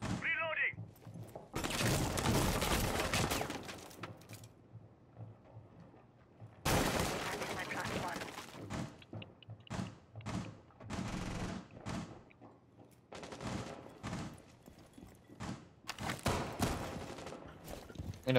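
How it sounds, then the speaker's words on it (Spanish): Gunfire in a Spanish-language tactical shooter match with drones and balconies: loud bursts of rapid shots come in clusters, some near and some farther off, with short pauses between volleys. "yo he visto los disparos que venían de la izquierda."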